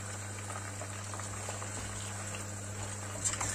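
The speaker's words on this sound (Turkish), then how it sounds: "bütün sebzelerimi kızarttım. Köftelerimi kızarttım." Vegetables and meatballs fry in a pan for an oven-baked vegetable dish, a faint, continuous hissing sizzle with soft bubbling, steady throughout.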